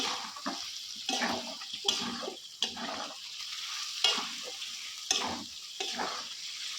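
Chicken with spices frying in a pot for biryani, stirred in several scraping strokes with a steady sizzle in between, close and fairly loud, with no talking.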